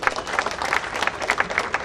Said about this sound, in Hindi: जोरदार तालियां सभी का।